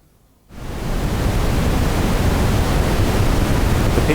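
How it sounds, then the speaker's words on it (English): Steady pink noise from a Tinysizer synthesizer, routed through a VCA, starts abruptly after a brief quiet moment and then holds as a loud, even, dull hiss that continues on its own to the end. "And this is the pink noise."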